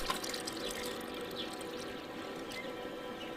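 Water pours steadily over cabbage crops in the video game HumanitZ, a continuous splashing wash that holds at an even level for several seconds, with no talk.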